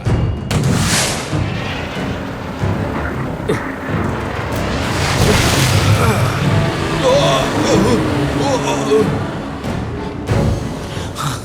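Gunfire in a dubbed Hollywood war action film: loud bursts of shots and booms crack out near the start, midway and near the end, surrounded by dense action noise and voices talking.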